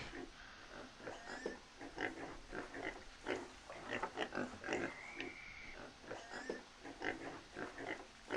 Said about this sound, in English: we might have to turn off the pigs here in a minute